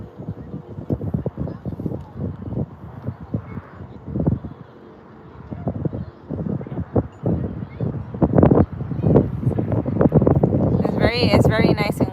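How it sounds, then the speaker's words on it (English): Gusting wind buffets the microphone outdoors at sunset in Arizona, rumbling in uneven bursts that grow stronger toward the end, with people talking throughout. "It's very nice and windy here."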